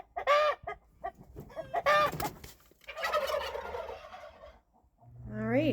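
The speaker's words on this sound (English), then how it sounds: "I'm going to go outside, feed the chickens." Chickens cluck and squawk nearby outdoors in a series of loud, irregular calls, with longer warbling cackles and a rising call near the end.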